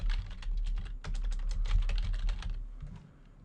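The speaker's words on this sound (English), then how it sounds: "So I'm just going to type my text out." Rapid, steady clatter of keys as text is typed on a computer keyboard for a Photoshop text effect, close and continuous before tapering off near the end, with no talking.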